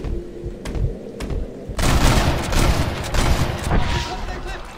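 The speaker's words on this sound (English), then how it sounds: "They're shooting down on us." Gunfire in the video game Red Dead Redemption, with a couple of sharp shots followed by a dense, sustained volley of overlapping fire at moderate loudness.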